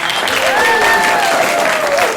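Brief burst of audience applause at a talk on the spirituality of Star Wars, loud dense clapping with a voice or whistle-like tone briefly gliding through it.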